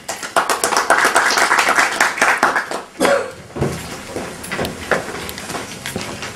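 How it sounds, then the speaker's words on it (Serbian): Audience applause at the founding assembly of a Kingdom of Serbia association in Kuršumlija, a dense, lively burst of clapping that fades after about three seconds into scattered claps and a few sparse taps. "Biće vremena za aplauze."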